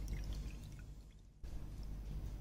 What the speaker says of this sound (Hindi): 1 टेबलस्पून में हम पानी डाल रहे हैं, पानी में सोक करेंगे हम इसको। और मैं इसमें पानी डाल रही हूँ